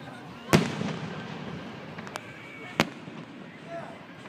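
Outdoor fireworks: two sharp, loud booms about two seconds apart, with a faint pop between them. Crackling and rumble trail off after each blast over a quiet backdrop.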